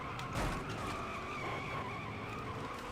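A stock car in NASCAR Heat 3 skids with a sharp tire squeal as it steps out and slams into the wall, a loud burst of screeching and impact that fades into engine noise.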